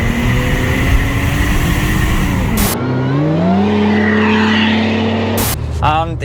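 Supercharged V6 engine of a Mercedes-Benz C32 AMG revs hard from inside the car, a loud sustained roar that rises in pitch through gear changes, with abrupt shift blips between pulls.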